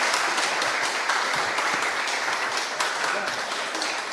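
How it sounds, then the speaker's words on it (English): Applause from an audience at a Canadian government funding announcement for homeless veterans' groups in Nova Scotia, a steady, even patter of many hands clapping at moderate loudness throughout. "give your hands a little round of applause for the Honourable Sean Fraser"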